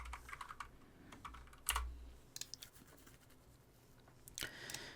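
Quiet typing on a computer keyboard, scattered soft key clicks in short bursts with pauses between, close but faint, with a brief rustle at the end.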